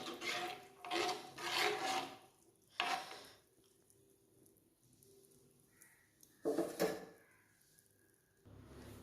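Scraping and swishing of a utensil stirring rice flour into water in a bowl, in a few bursts separated by quieter pauses.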